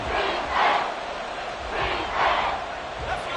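A football crowd roars and chants in rising and falling waves ahead of a big third-down play in a game, loud and sustained with no pause.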